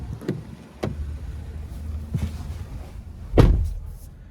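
A 2024 Cadillac XT4 driver's door opening and closing, with a few soft clicks and thumps followed by one heavier closing thud near the end, close and fairly quiet, with no speech.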